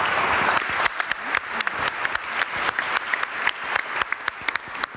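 A conference audience applauds its panelists at a circular economy forum with a full, sustained round of clapping that gradually settles into more spaced, rhythmic claps.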